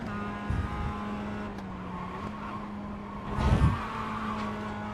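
Mazda race car lapping Brands Hatch in the iRacing sim, its engine holding a steady, close droning whine throughout, with brief rougher bursts as it brakes and scrubs speed; no talking.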